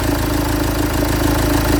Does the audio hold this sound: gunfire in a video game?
no